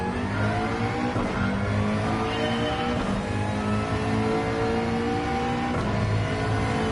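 A McLaren race car in Gran Turismo 7 roars continuously at high revs, its layered engine harmonics rising and shifting through gears, loud and steady throughout with no voices.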